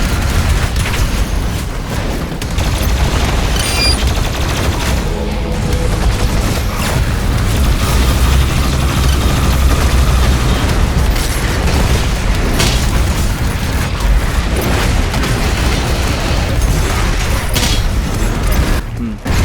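Weapon fire from the BFG and Unmaker in Doom Eternal: The Ancient Gods Part Two, a dense, loud barrage of booms, bursts and mechanical blasts running without pause across the whole stretch of combat.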